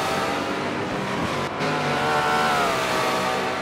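Race car engines in Forza Motorsport 7 at Infineon Raceway drone close and steadily, their high-pitched revs rising and holding with a brief dip as the cars push through the final turns; nobody speaks.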